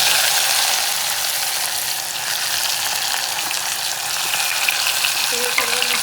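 Cumin, chilli, onion and tomato fry in oil with a loud, dense, continuous sizzle close by, joined by a few faint clicks of a utensil near the end; no one talks.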